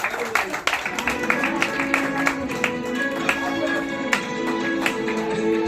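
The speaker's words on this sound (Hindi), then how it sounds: "उनका स्वागत जो है हम तालियां बजाकर करके करते हैं" Audience applause welcoming an MLA onto the stage at an award distribution event, a steady run of scattered claps with some sharper taps, a voice talking over part of it.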